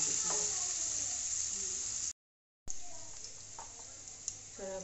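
Garlic paste frying in a pan gives off a steady, close sizzle and hiss that runs throughout, broken by a short silent gap partway through, with faint clinks and stirring beneath.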